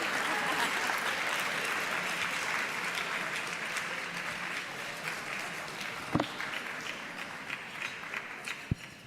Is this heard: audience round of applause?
yes